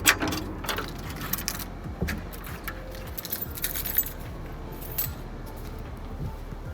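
Keys jangle and clink close by in a steady metallic rattle with small bright chinks throughout, heard alone without talk.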